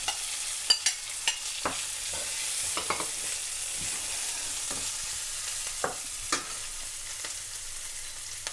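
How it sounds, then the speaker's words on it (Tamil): Small shallots with curry leaves frying on a low flame: a soft, steady sizzle broken by intermittent light taps and scrapes of a stirring spoon, close and fairly quiet. "இது கொஞ்சம் சின்ன நெருப்பில் பொரியட்டும்."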